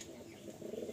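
Pigeons coo faintly in a loft, soft low murmuring calls over a quiet background for about a second.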